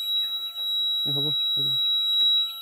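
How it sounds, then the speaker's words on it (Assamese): A poultry farm temperature monitoring system sounds its alarm as the heat climbs past the set limit, a steady high electronic tone that holds throughout while a person speaks briefly nearby. "টেম্পাৰেচাৰ তাতকৈ বাঢ়ি যোৱাৰ লগে লগে ই এলাৰ্ম বাজিবলৈ আৰম্ভ কৰিলে"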